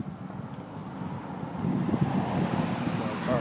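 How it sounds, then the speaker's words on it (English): Wind gusting outdoors at night beside a road after getting off a train in Wisconsin, a steady low rumble that swells louder midway as a gust picks up, heard alone without talk. "You can probably hear the wind going through the thing."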